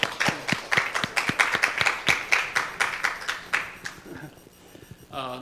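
A church congregation claps in unison, a steady rhythmic train of sharp, close claps at a brisk pace that slows and trails off near the end, followed by a brief murmur.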